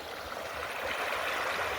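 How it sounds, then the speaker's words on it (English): A small creek flows with a soft, continuous rushing and trickling, a steady close wash of water with no voices over it. "sit and enjoy the sound of this little creek"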